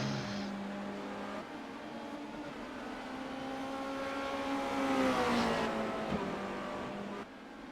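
A race car engine screams at high revs on track during a broadcast race, holding a steady wail, then climbing and shifting with a pitch sweep, heard at moderate level without talk.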